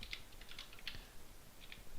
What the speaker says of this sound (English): So let's type it here